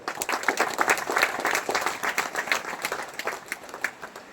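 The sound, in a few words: audience applause at a speech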